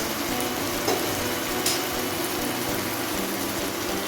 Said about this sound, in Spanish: Ahora sí podemos echar nuestra carne.